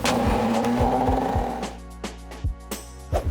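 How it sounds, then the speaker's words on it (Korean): A blender whirs loudly for a moment grinding a pasta sauce base with dried mullet roe, then cuts off, followed by a few scattered knocks and clinks of the jar being handled. "믹서로 갈아주겠습니다."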